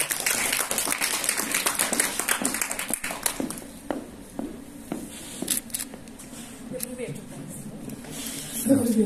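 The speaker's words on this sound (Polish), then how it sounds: "Wielkie brawa!" Concert audience applause for a singer at a charity event in Warsaw, an initial burst of clapping from a crowd that thins into scattered claps and fades over several seconds, with a voice heard near the end.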